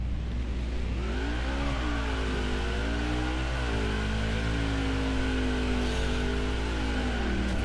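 A NASCAR Xfinity race car's engine revs hard and steadily during a burnout at Indianapolis in a video game, a loud, continuous roar with pitch swells and dips, no voices.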